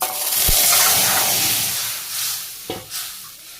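Mustard seeds hit hot oil in a wok in a Bangladeshi village kitchen, with a loud hissing sizzle and a couple of sharp clinks from stirring. The sizzle fades gradually.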